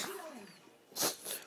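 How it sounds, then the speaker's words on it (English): Two quick bursty sneezes close to the mic, the second slightly softer, following a stretch of low background murmur. "Sneeze."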